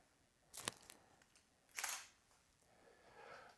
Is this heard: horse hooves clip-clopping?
no